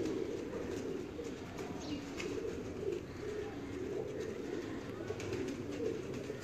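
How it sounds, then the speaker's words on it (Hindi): Pigeons cooing close by in a steady, repeating series of low rounded coos, with a faint hum of background noise and no talking. "देखें ज़रा टैडी कबूतर"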